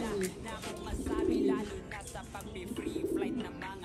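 Pigeons coo softly in low, burbling phrases nearby while a person talks over them.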